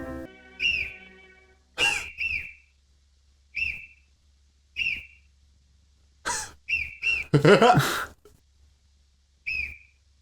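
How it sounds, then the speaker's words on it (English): Film-score whistle sound effect from the 1931 orchestral soundtrack of City Lights, heard as a series of short, bright, repeated whistle toots in an irregular rhythm, loud and close, with a brief louder burst near the end and no talking. "This whistle's making noise, so like that totally shows this is not a silent movie."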